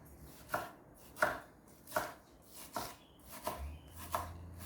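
Knife chopping tomato and lemongrass on a board for a spiced salmon curry paste: six crisp, evenly spaced chops, close and clear, with no talking.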